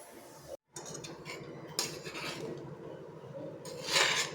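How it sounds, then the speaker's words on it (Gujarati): A spoon scrapes and clinks in a bowl while stirring a green pigeon pea filling for paratha, soft steady rubbing with a few brighter metallic scrapes, close but quiet and without speech. "બધું આપણે મિક્સ કરી લઈશું"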